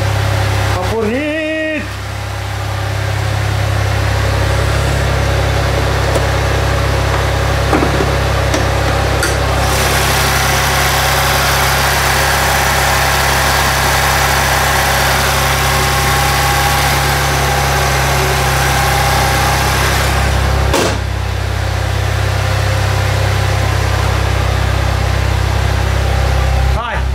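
An Alfa Romeo engine idles right after starting, a steady low rumble with vibration that runs throughout, while people talk excitedly over it.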